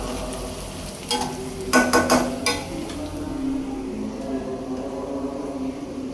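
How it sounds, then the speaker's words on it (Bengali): Hot water poured into a pot of pilau cooking on a low stove flame, a sudden loud splash and sizzle burst that settles into a steady simmering hiss, with faint stirring and a few clinks of the pan. "একটু গরম পানি দিয়ে দিচ্ছি, গরম পানি দিয়ে এই পোলাওটা রান্না করবো"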